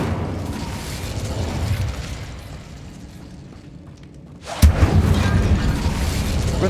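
An Incendio fire spell is cast in Hogwarts Legacy with a sudden loud whooshing burst after a low rumbling stretch, followed by sustained roaring flame noise.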